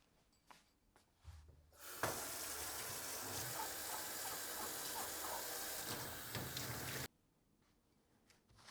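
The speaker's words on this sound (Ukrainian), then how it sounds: "контейнер потрібно обробити гарячою водою зі звичайним миючим засобом" Hot tap water gushes steadily into a sink as a candle container is washed, a loud continuous rush that starts abruptly and cuts off after about five seconds, with quiet handling sounds before and after.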